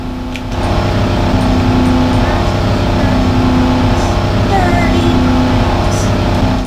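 Pickup truck engine in a drift car video game, a loud, steady engine drone with shifting pitch that holds throughout after a short softer opening.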